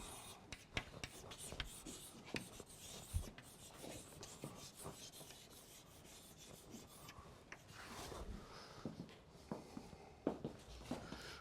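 Chalk scratches and taps faintly on a board during a lecture, an irregular run of short strokes and rubbing sounds with no talk over it.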